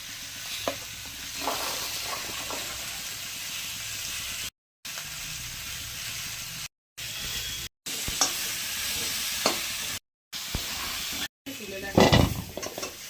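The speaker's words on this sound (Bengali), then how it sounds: "এখানে আদা রসুনটা একটু হালকা করে ভেজে নেবো।" Ginger and garlic fry in oil in a pan for mutton handi, a continuous sizzle with stirring scrapes. Short silent gaps break the sound, and a louder clatter comes near the end.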